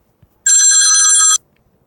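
A phone ringtone gives one loud, bright electronic ringing burst of just under a second, alone in near silence.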